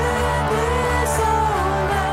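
An early rock track, the band's first song, plays loud and steady with dense guitars and sustained harmonic tones throughout, no talking.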